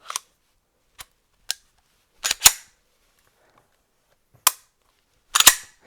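Sharp metallic clicks of a pistol's slide and locking parts as the handgun is reassembled, a few isolated snaps spaced out, then a closely spaced pair and a later cluster of louder racks, close and alone with no talk.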